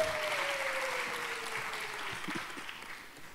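Congregation applauding in a church service, a steady wash of clapping from a crowd that holds at moderate level throughout with a faint tone fading in the background.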